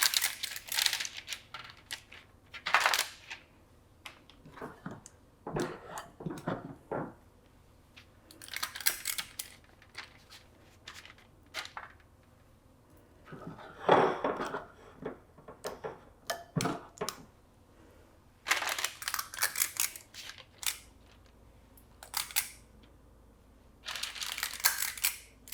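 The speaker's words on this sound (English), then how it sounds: "I've got an ice cream scooper, and I'm just going to scoop out the chocolate into little balls" Homemade chocolate truffle mixture is portioned with an ice cream scoop onto a parchment-lined tray, producing a series of close, sharp clicks and scraping taps in irregular bursts, separated by quiet gaps.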